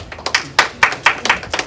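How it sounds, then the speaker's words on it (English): Audience at a comedy show claps in several uneven bursts, a scattered patter of hands at moderate loudness with no talk over it. "Clap for that shit"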